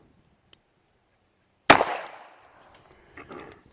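A single loud, close gunshot from a Smith & Wesson 438 Airweight Bodyguard .38 revolver with a 2-inch barrel, fired outdoors, with a sharp crack that decays quickly, followed by faint rustling.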